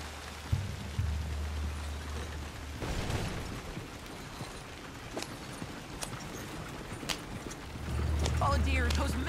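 Horse hooves clip-clop at a steady pace in Red Dead Redemption 2, riding under rain-like noise and a low rumbling drone, with a voice urging the horse on.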